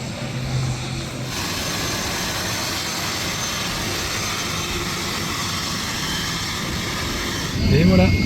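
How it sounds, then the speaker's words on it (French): A just-landed airplane's jet engines give a steady broad roar and whine throughout, heard from nearby, swelling slightly louder near the end. "l'avion vient juste d'atterrir"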